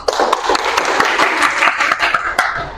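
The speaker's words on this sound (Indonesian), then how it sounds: "Oke, tepuk tangan dulu." Brisk applause from a chemistry class, a room of students clapping loudly and close up with sharp individual hand claps standing out, for a few seconds.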